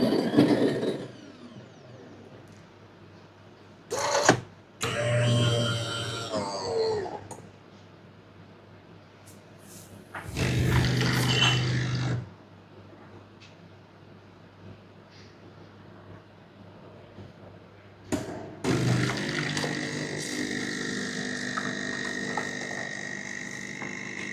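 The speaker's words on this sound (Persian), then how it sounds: "کاپ کوچیک رو میزنین، شروع میکنه به آسیاب کردن." A Tchibo fully automatic coffee machine in a shop whirs and grinds beans in several loud mechanical bursts, the last one a sustained buzzing run, with quieter pauses between.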